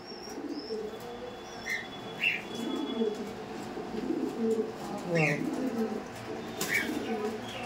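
Racing pigeons at a loft market coo softly with occasional chirps and wing flutters, set against a busy background of people talking.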